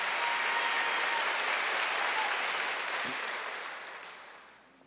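A church congregation at a Sunday worship service claps in a loud, sustained burst of applause that fills the room and then tapers off gradually toward the end.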